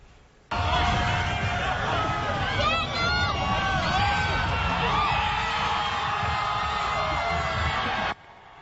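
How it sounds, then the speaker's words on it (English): A stadium crowd roars and cheers as Tom Brady throws the Lombardi Trophy at the boat parade, a loud, steady wash of distant voices with scattered whoops rising above it, held for several seconds before cutting off. "And the crowd goes wild."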